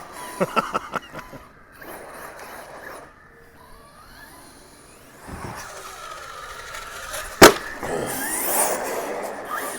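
Kraton 8S and Kraton 6S RC car motors whine and rev in bursts in a skate park, punctuated by clattering impacts and a sharp crash on a hard surface.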